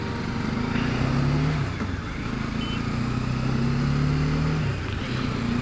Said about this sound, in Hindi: देखो उड़ता हुआ ट्रैक्टर।